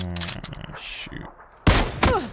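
Gunfire in the video game PUBG, two sharp, loud shot bursts near the end after scattered game noise, with a player talking briefly.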